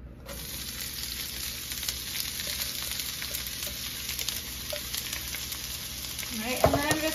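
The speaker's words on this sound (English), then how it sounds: "Okay, and then I'm gonna add my onions." Onions sizzle steadily in hot oil in a pan while Argentinian fugazzeta is being made, a dense, continuous crackle heard close up that runs the whole time, with a brief clatter of movement near the end.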